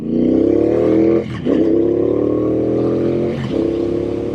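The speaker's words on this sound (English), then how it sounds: "I'm short shifting on purpose. My gosh, this thing has got speed." A Triumph Speedmaster motorcycle pulls hard in first gear, its engine note climbing steadily and loud, then dipping briefly on a quick short-shift around mid-clip before rising again, with a second short lift near the end.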